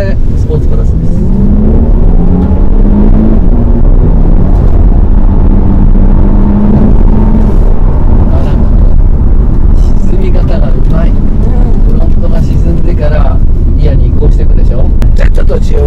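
Nissan Skyline Nismo driven in Sport Plus mode, its engine humming and rising in pitch under acceleration inside the cabin, heard beneath continuous conversation between occupants.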